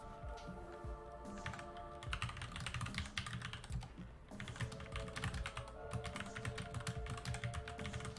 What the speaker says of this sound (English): Sorry, I am typing when I was going to say Honor.